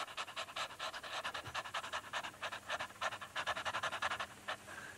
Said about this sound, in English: The next one I'd like to do is the panting exercise